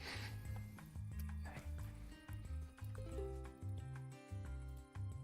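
A horse in the Minecraft Cobblemon game gives repeated clip-clop hoof steps and a whinny, heard alongside looping game music with steady low tones and scattered other game effects.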